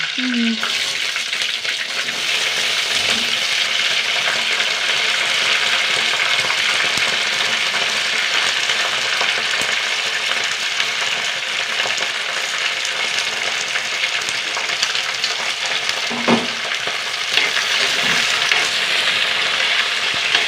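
Okra and curry leaves fry in a pan, a loud, continuous sizzle with occasional stirring clinks and scrapes over about twenty seconds, without speech.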